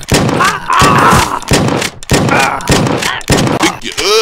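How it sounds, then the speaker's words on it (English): Shotgun blasts in the video game Redneck vs Zombies: six or seven loud, close booming shots in quick, fairly even succession, each with a short ringing tail. "Shotgun."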